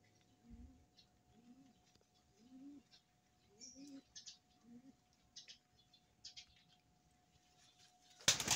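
Pigeons coo in a slow series of four or five soft, low calls, with faint higher chirps scattered around them and a sudden loud noise at the very end, heard close in a quiet setting.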